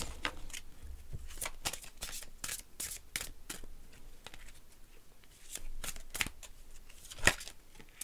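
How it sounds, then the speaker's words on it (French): Oracle of Isis cards being shuffled and drawn, heard as a quiet series of quick papery flicks and snaps in an irregular rhythm, close and soft with no talk. "je vais maintenant vous tirer une carte de l'oracle d'Isis"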